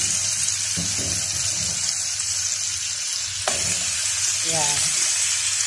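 Cow feet brown in a pan with a constant crackling fry, broken by a few utensil scrapes and knocks; a faint voice surfaces briefly near the end.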